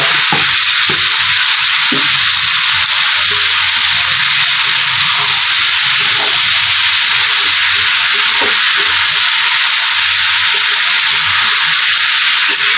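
Whole cumin and spices frying in hot oil with turmeric, a loud, dense, continuous sizzle up close, with occasional soft knocks from stirring and no talking.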